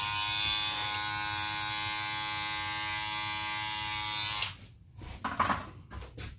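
Electric hair clippers buzzing steadily and close during a haircut for about four seconds, then cutting off into quieter handling noises and soft taps.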